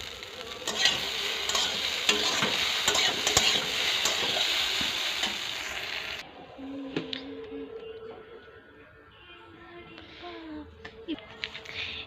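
An egg fries and is stirred in a pan, a dense sizzle with scraping strokes for the first half, then quieter frying with sparse clinks and faint background sounds.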